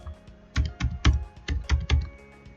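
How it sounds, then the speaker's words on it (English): Typing on a computer keyboard, about eight quick clicky keystrokes in an uneven run, close and clear over a quiet background. "then you type your real name here"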